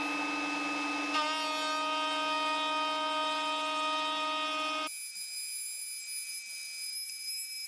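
A Makita router cutting grooves in wood, with large and small dust extractors running, gives a loud, steady, high-pitched whine throughout, its pitch shifting abruptly twice as the cut and motor load change.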